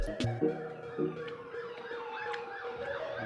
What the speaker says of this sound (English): Boy, there was some more sirens.